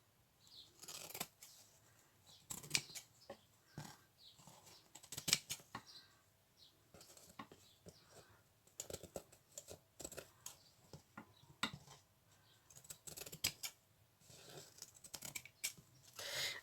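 Scissors snip small scraps of paper for a junk journal traveler's notebook, making quiet, close crisp cuts in irregular bursts with paper rustling between them.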